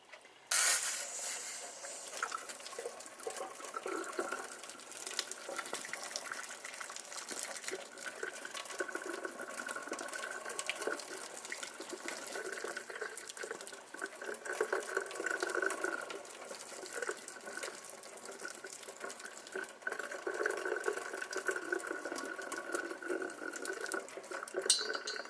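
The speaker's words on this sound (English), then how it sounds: "I'm going to show you pouring the water on this to shrink that paracord." Boiling water poured from a kettle over paracord wrapped on a zombie axe handle, a steady splashing pour that runs continuously and fairly loud throughout, with no talking.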